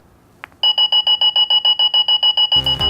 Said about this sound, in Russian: В нужное время сработает будильник, и робот вас разбудит вот таким звуком.